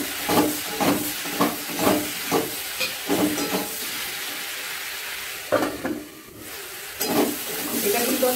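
Chopped onion, tomato and green chilli frying in a pan, giving a loud, steady sizzle and hiss punctuated by rhythmic stirring scrapes, with a voice talking at times.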